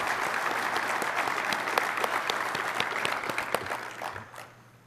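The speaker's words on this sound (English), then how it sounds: "we can start right now with a round of applause for these individuals who represent the bright future of our industry" Applause rises from the audience at an aviation industry association's chairman transition event, honoring young professionals. It is a dense, steady, loud crowd clapping that fades toward the end, and no one speaks over it.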